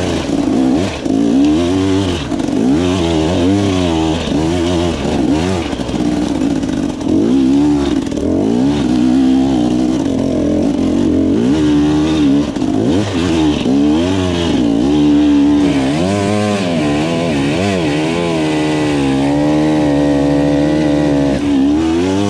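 Enduro motorcycle ridden off-road on a trail with jumps, its engine revving and dropping continuously through gear changes and throttle blips, loud and close throughout.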